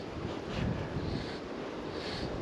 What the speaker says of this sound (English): This wind is just, it's not making casting enjoyable at all